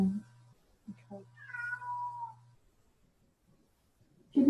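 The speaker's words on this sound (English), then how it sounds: "Kitty says hello." A cat gives a single drawn-out meow, close and clear, followed by quiet and then a brief voice at the end.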